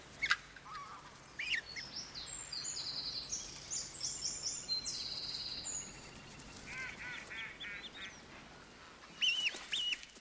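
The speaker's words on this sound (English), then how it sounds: "Egyptian geese are now a common sight at reservoirs." Egyptian geese call at a reservoir lake with a few scattered, short honking cries. They sound faint and somewhat distant over quiet outdoor ambience.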